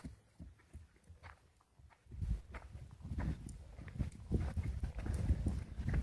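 A horse's hooves clip-clopping on a trail ride past a field near stables, faint and sparse at first, then a steadier rhythmic run of hoof falls with some rustling and movement noise.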